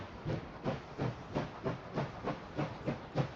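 Rhythmic steam chuffing from a locomotive in the video game Last Train Home, about ten soft even hissing puffs in steady succession, moderately faint with no talk.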